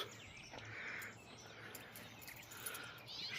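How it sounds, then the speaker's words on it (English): Birds sing faintly in a Kentucky garden on a morning walk, with scattered chirps and trills over a soft outdoor background. "Here are the birds."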